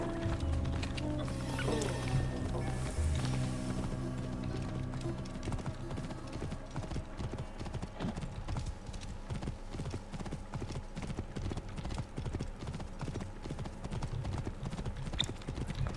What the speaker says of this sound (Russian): Откуда у меня конь на этом острове взялся?